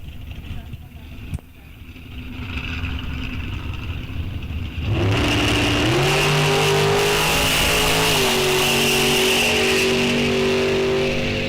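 Drag racing at a Sizzlin' $7,500s bracket event: a dragster engine rises from a low idle into a loud, sustained launch roar with rising pitch steps as it pulls down the strip, after a quieter stretch with an announcer talking.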